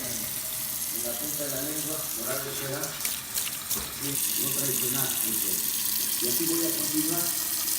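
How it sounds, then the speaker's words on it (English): Tomatoes and peppers are washed under a running kitchen tap: a steady, close rush of water splashes into the sink throughout, with a voice talking over it at times. "I'm about to wash the tomatoes and the peppers so that I can boil them"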